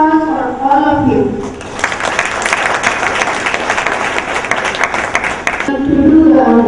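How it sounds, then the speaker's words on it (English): Audience applause at a children's science innovation awards ceremony, a dense burst of clapping lasting about four seconds between stretches of speech. "So a big applause for all of you."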